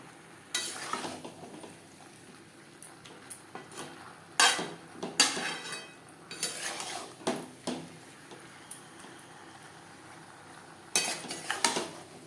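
A spoon stirs potato, pointed gourd and soybean curry with spices in a pan, giving scattered scraping clatters and knocks against the metal over a soft sizzle, with some bursts louder than others.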